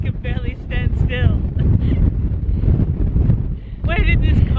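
Fierce wind on the Isle of Skye batters the microphone in loud, continuous low gusts, while a person talks in short bursts over the roar.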